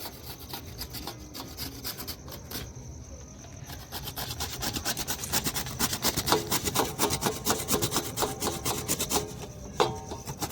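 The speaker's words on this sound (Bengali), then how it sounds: "ঘষে নি বিটটা আর গাজরটা" Carrot and beetroot grated by hand for vegetable chops, rhythmic rasping strokes that start soft and sparse, then turn quicker and louder, close up and without speech.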